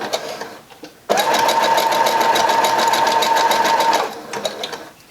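Sewing machine stitching a headband wig, running in a steady, loud, close mechanical whir for about three seconds after a sudden start, then slowing and stopping, with no talk.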